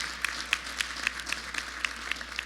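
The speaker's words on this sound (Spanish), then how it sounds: "Un aplauso a los jóvenes que han organizado este evento" Applause from an audience at a weekly assembly, honouring the young people who organised the event: sparse, fairly faint clapping with distinct individual claps recurring at a steady pace, heard alone.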